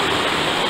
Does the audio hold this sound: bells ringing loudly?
no